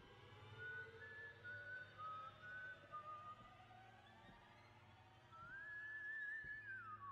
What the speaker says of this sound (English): It sounds like he's whistling on top of me.